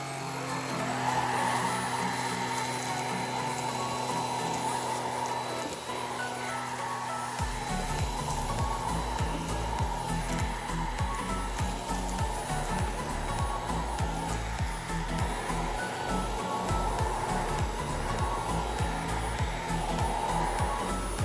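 A Xiaomi Jimmy JV65 Plus stick vacuum with its scraping brush head runs at maximum power on carpet, a loud steady whining motor joined partway through by a rough, rapid rumbling rattle as it sweeps the rug.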